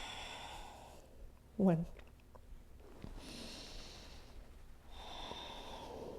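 Deep, airy breaths drawn in and pushed out during a yoga flow, several slow exhales in sequence with one sharp nasal puff, close and moderately loud, with a brief spoken count from an instructor.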